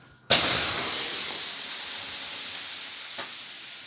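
Water thrown onto a hot stove bursts into a sudden loud hiss of steam. The hiss stays strong, then slowly fades while a small second sizzle flares near the end.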